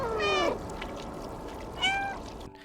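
Cat meows in the video game Stray, two distinct rising-falling calls about a second and a half apart, clear and close with a faint background hum.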